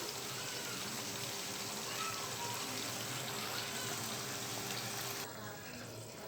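Ivy gourd vegetables boil in water in a pan, a dense, steady bubbling hiss that runs close and continuous before dropping slightly at the end.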